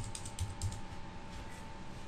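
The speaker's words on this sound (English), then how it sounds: "But as I'm typing" Computer keyboard typing while entering characters into a serial terminal connected to an AVR microcontroller over UART. A quick run of clicky keystrokes comes first, followed by softer, steadier tapping, close and alone over a faint electronic hum.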